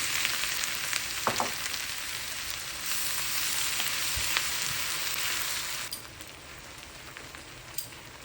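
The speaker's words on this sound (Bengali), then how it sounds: "কিছুটা নারকেল কোড়ানোর সাথে হলুদ মিশিয়ে ফোড়নে দিয়ে দিব" Grated coconut mixed with turmeric sizzles steadily in a mustard-oil tempering of bay leaf, dried chili and panch phoron for winter-vegetable khichuri, a dense, continuous frying hiss with a few sharper pops.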